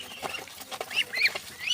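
Several short nasal calls from Chinese duck ducklings under a month old, over a rustling background, like soft quacking nearby, spaced irregularly.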